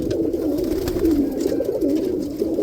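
Roller pigeons cooing steadily inside a loft, a continuous low rolling coo from several birds, close and fairly loud with no talking over it.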